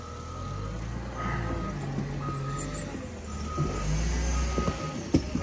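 A heavy work vehicle backs down a snowy ramp at Mammoth, its reversing alarm sounding a steady series of evenly spaced beeps over a low, rumbling diesel engine close by.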